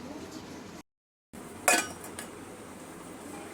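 A lid placed over a pot of freshly made red tea, one sharp metallic clank followed by a brief rattle, close, after a short gap of silence, with faint room noise around it.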